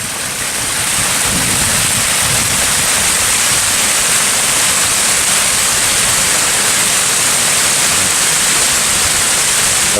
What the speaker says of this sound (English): Here's this waterfall.